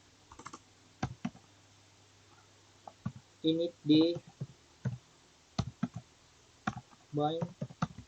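Commands are typed on a computer keyboard for a Debian server setup, with sharp close key clicks in scattered bursts and short pauses, under someone speaking.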